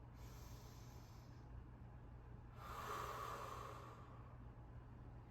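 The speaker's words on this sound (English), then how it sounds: "Let's take a nice reset breath. Big inhale, big exhale here." Deep breathing during a yoga session: a big inhale and a long exhale, faint airy rushes of breath heard up close against quiet background hum.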